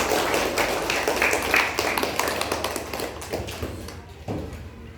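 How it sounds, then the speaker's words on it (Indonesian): Classroom applause after a group presentation, a loud steady patter of many hands clapping close by, gradually fading toward the end with a few final claps. "Oke, berikan tepuk tangan"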